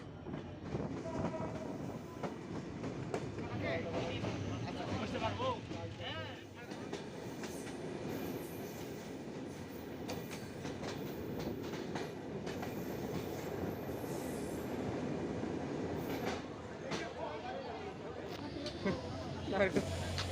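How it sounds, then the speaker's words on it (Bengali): A Benapole Express passenger train in Bangladesh runs at speed, its steady rolling rumble and clattering wheels filling the whole stretch, with occasional squeals and voices faintly mixed in. "দ্রুতগামী গতির দানব ট্রেন হচ্ছে বেনাপোল এক্সপ্রেস"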